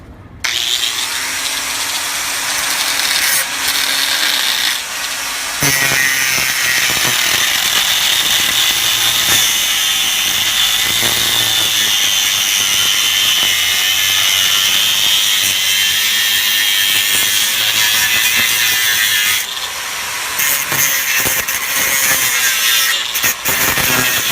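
A 9-inch diamond-blade grinder cuts protruding rebar on a concrete surface being prepared for coating, a loud sustained high-pitched screech and whine running nearly nonstop, with a short break near the end.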